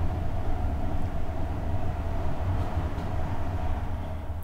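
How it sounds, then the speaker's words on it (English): Train rolling past outside, a continuous low rumble and rattle of wagons with a faint whine, steady and moderately loud throughout with a few light clanks. "Train just went by, interrupting my audio."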